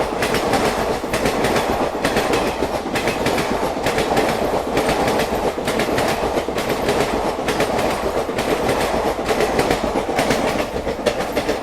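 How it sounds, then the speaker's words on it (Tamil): A train thunders past on the main line near Tirupati–Madurai route tracks, a loud, steady rumble with rhythmic clickety-clack of wagon wheels continuing without break throughout. "இப்போ ஒரு ட்ரெயின் வரப்போகுது, இந்த பக்கத்தில் தான் வரும்."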